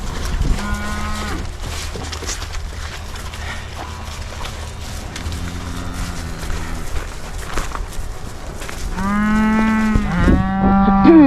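Several cows moo on a farm in fall, long harmonic lows rising to louder, overlapping calls near the end, set against steady outdoor background noise.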